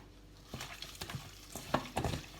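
Raw beef laab being mixed by hand, giving soft, wet squelches and light clatters that come in irregular bursts, close up, with no voices.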